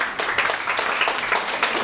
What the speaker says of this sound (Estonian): võiks teha veel ühe suure aplausi